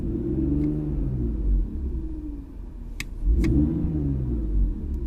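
A BMW E46 fitted with underdrive pulleys, its engine droning at idle then revved twice in quick blips, each rise and fall of pitch close and loud over a steady low rumble.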